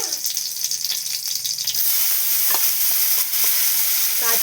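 Cashews and raisins fry in hot oil with bay leaf, garam masala and cardamom. A soft sizzle swells into a loud, steady hiss, with scattered stirring clicks close by.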